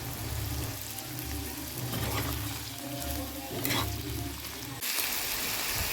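Chopped onion, ginger and plenty of garlic frying in hot oil in a wok, a steady near sizzle with occasional stirring scrapes and a low background hum, no voices.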